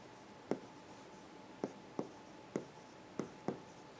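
Chalk or marker taps and strokes on a classroom board during a Java programming lecture: six short, sharp knocks spaced irregularly over a quiet room hum, with no talking.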